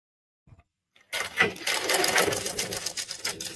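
A sewing machine stitches frock fabric after a brief near-silence with faint handling taps, then a close, fast, steady motorised needle clatter that runs continuously to the end.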